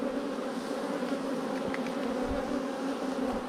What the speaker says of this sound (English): the bees are happy, the bees are working hard